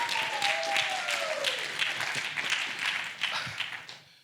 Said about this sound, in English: Please let us give them a round of applause again.